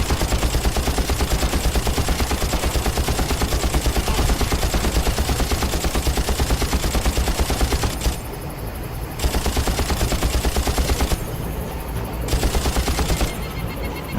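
Gunfire in the Far Cry video game, long rapid bursts of loud automatic shots in steady rhythm, broken by short pauses where the firing stops before resuming.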